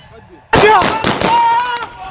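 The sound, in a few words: gunfire at an aircraft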